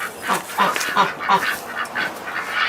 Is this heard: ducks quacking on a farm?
yes